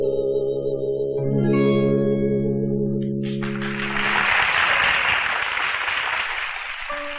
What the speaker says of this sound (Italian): Sentite che applausi?